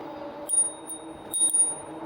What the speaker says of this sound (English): I kind of ring the bell here just to make sure that no one's around